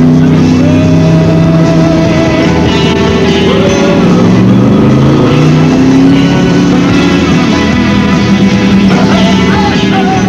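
An AC Cobra sports car with a cast iron V8, 5.7-litre, roars loud and close throughout, its engine note rising and falling steadily as it revs and shifts, with no voices.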